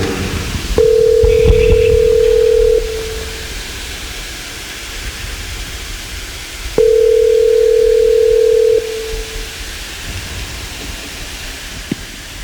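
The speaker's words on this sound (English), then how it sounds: "Let's get him on the phone, Michael." A telephone call rings out on the line, two long steady ringback tones of about two seconds each separated by a pause, clear and loud over a faint background hiss, with no talking.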